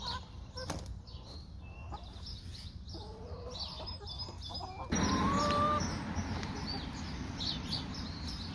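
Hens in a chicken run cluck and call on and off at moderate distance, with a louder burst of clucking partway through over a soft outdoor background.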